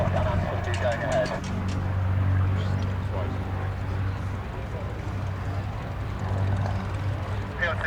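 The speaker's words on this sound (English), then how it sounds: "there's the Shuttleworth chief pilot, Paul Shakespeare, landing on with the Chipmunk" A Chipmunk aircraft lands at a Shuttleworth air display, flown by the chief pilot: a low, steady engine drone at middle distance, with birds chirping and voices talking over it.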